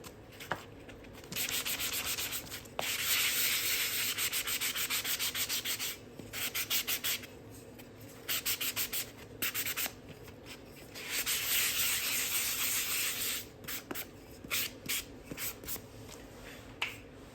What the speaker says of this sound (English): Before you stencil, make sure that you sand your block.